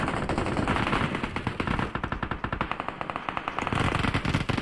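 Automatic gunfire in the mobile shooter PUBG Mobile crackles in rapid, sustained bursts of sharp shots, loud and dense with only brief gaps.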